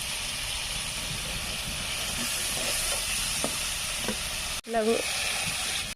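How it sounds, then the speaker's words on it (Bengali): Spices with water sizzle in a pan while cooking a katla fish belly curry, a steady soft hiss throughout with faint stirring taps and a brief louder disturbance near the end. "মশলাগুলো জল দিয়ে দিচ্ছি"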